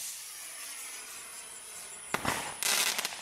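Crackling consumer fireworks from Aldi: after a few seconds of quiet hiss, two sharp bursts of dense crackle go off close together, loud and near.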